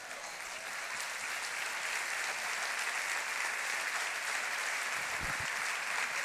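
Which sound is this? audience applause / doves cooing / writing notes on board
audience applause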